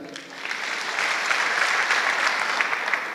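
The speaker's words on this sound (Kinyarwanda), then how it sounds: "amashyi menshi cyane" An audience breaks into applause that swells quickly and holds steady as dense, even clapping throughout.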